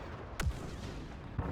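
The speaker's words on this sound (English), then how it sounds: "We also get the RD-4 launcher," An RD-4 launcher fires in a modded Star Wars Battlefront 2 video game: two sharp, heavy blasts about a second apart, each a crisp crack with a low booming tail, loud and close.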